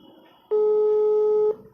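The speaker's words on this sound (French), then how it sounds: "Donc, je lance le numéro de DS Collection." A telephone call tone after dialing, a single loud steady beep lasting about a second, clean and close, with faint low background sound before it.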